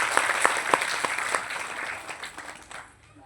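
Audience applause at a motivational health talk, a short burst of brisk clapping with several sharp individual claps early on, thinning and fading out over about three seconds.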